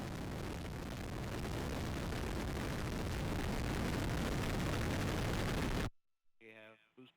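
United Launch Alliance Atlas V rocket with RD-180 engine lifting off on a reconnaissance mission, a sustained heavy roaring rumble that fills everything for several seconds, then cuts off abruptly as a voice speaks.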